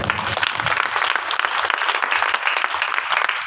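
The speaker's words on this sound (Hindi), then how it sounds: "ताली बजाकर प्रभु का धन्यवाद करें" A congregation at a Christian prayer meeting in Rajnandgaon applauds to thank the Lord, with dense, steady hand clapping filling the room throughout and no voices over it.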